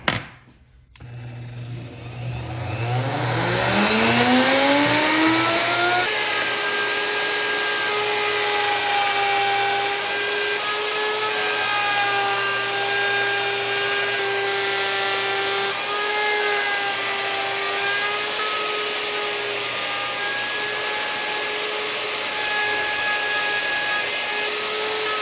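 A router fitted with a 1/4 inch bit spins up to a high whine and cuts a pocket in wood for a playing card tray, a loud, steady close motor drone holding its pitch with little variation, no voices.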